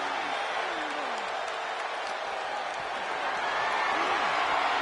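Roaring video game crowd at a WWE wrestling match, a steady loud wash of cheering and applause with rising swells, going on throughout.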